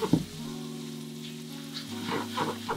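Meat frying in a pan with tianmianjiang sweet bean paste and chili oil, a quiet, steady sizzle with a few soft stirring clicks and a faint bubbling texture throughout.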